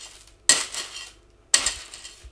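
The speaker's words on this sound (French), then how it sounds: "on a quelqu'un qui creuse la terre." Someone digging earth, two sharp scraping strikes about a second apart, close and crisp, each fading in a short gritty rustle.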